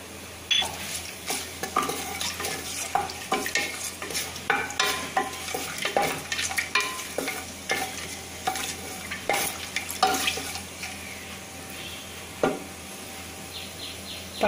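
Whole cinnamon, star anise, cardamom and cloves frying in hot oil for chicken biryani: a steady crackling sizzle broken by repeated scraping and clinking of a stirring spoon against the pan, close and moderately loud.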